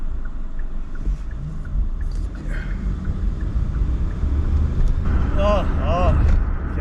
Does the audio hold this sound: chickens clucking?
no